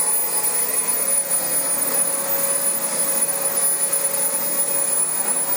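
Dyson DC25 upright vacuum cleaner running indoors, a loud, steady high-pitched whine and airflow roar held without a break.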